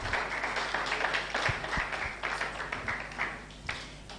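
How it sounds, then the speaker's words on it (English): Applause from a modest audience at a Flutter developer conference in Cape Town: scattered clapping throughout, fairly faint and a little distant, with a few sharper claps standing out. "another round of applause for him"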